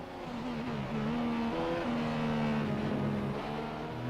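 Racing car engines in the F1 2015 video game scream at close range during an overtake on the outside, a steady high-pitched whine shifting in pitch as the cars run side by side, continuous and loud.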